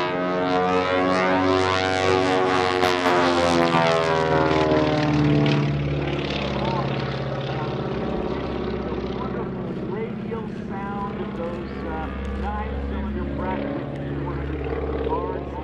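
A vintage Cessna T-50 Bobcat with 300-horsepower Jacobs radial engines makes a pass at the EAA AirVenture 2018 air show in Oshkosh, its loud droning roar rising and then slowly fading, with an announcer talking over it.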